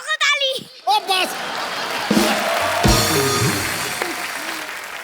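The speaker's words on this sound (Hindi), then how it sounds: "ठोको ताली।" Studio audience breaks into sustained applause and cheering on an Indian comedy talk show set, rising after a few brief spoken lines and holding a dense, steady clatter of clapping to the end.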